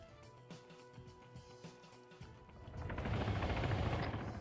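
A military helicopter in a video game, under TOW missile fire while evading, makes a steady mechanical whine that swells after about two seconds into a louder, sustained rotor and engine roar, with no talk.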